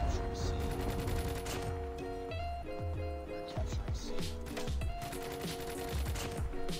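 LK-24 rifle fire in Call of Duty: Mobile comes in repeated sharp bursts, loud and close, layered over steady tonal game music and sound effects throughout.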